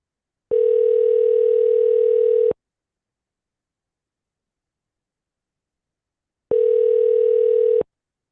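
Two bursts of a steady electronic telephone tone ring out during a phone call, each lasting a couple of seconds and separated by a long silent gap, clear and alone with no talk.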